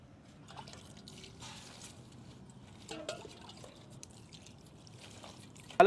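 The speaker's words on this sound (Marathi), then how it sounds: "आता त्याला स्वच्छ पाण्याने धुवून घेऊ।" Freshly cut spinach is rinsed in clean water, with soft splashing, dripping and sloshing in a kitchen, fairly quiet with a few clearer splashes and a sharper clatter at the very end.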